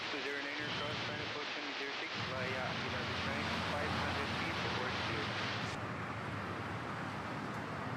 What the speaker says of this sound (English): Nice, an easy landing by that A350.